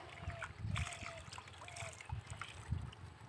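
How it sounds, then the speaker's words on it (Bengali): Water splashing and running while hair is washed after Holi, a steady wash of spray with a few louder splashes, heard outdoors with faint voices and background sounds. "তো এখন কিন্তু আমি মাথাটা ধুয়ে নিচ্ছি ভালো করে।"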